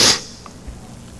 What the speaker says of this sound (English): I'm sorry for the sniffling.